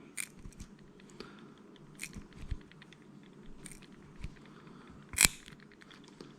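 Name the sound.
trimmers cutting braided fishing line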